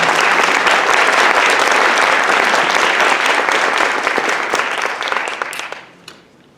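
Sustained audience applause at a University of New Mexico English Department graduation convocation, a dense wash of many hands clapping that holds steady and then tapers off into a few last claps and silence.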